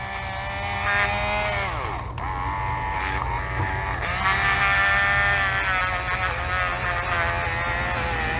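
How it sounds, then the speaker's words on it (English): A rotary tool fitted with a Scotch-Brite abrasive adapter strips gray paint from a diecast toy car. It gives a steady, close, high-pitched whirring buzz that dips in pitch briefly under load and runs throughout. "Now I'm going to hit it with the Scotch-Brite adapter on here to see what lies beneath all this gray stuff."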